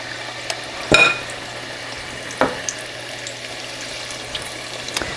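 Hushpuppies deep-fry in a pot of oil with a soft, steady bubbling hiss, punctuated by a couple of brief clinks and a low background hum.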